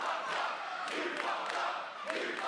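Wrestling arena crowd at a heavyweight championship match, cheering and chanting in a sustained roar of many voices with rising shouts, steady and fairly close throughout.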